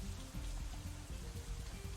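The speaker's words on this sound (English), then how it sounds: "it's still raining outside when we exit the Shanghai, though it seems to be letting up a little" In the Katawa Shoujo video game, rain falls steadily outside: a soft, continuous patter of drops on surfaces, quiet and even throughout.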